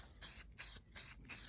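An aerosol can sprays paint onto a wooden beehive in four short, even hissing bursts separated by brief pauses, close and fairly quiet.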